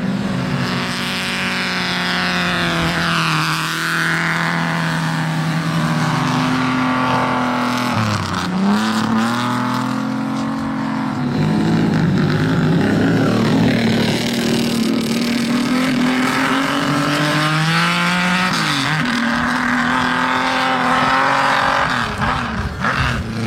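Expensive high-end sports cars racing on an ice track, loud engines revving and shifting continuously as they pass nearby, with rising and falling engine notes and occasional tire squeal.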